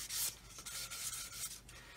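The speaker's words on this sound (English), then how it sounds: "I'll take the 1000 grit sponge and I'm just going to run over all the edges" A 1000 grit sanding sponge rubs along the edges of a plastic model aircraft wing in quiet, close, repeated short strokes, with no one talking.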